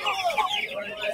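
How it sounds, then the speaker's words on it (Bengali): A silkie chicken at a bird market gives a short run of soft, throaty clucks, close by and fairly quiet, with faint background chatter. "সিল্কি পাখি"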